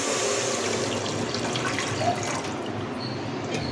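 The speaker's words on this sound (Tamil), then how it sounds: "ஸோ தண்ணி இப்போ சேர்த்துடலாம்" Water pours steadily into a pot for cooking coconut rice, a continuous close splashing rush with no voices.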